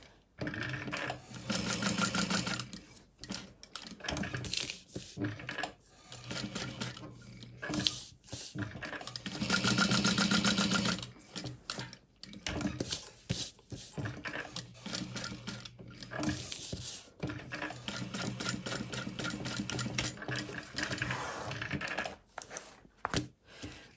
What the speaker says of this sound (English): And then just top stitch that into place.